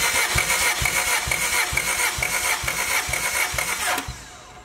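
China-built four-cylinder motor cranking on the starter during a compression check, a loud rapid series of even chugging strokes for about four seconds, then cutting off abruptly into a fading ring.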